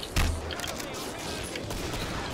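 Gunfire in the video game Killing Floor, a burst of shots at the start followed by continued rapid firing in a busy, noisy mix.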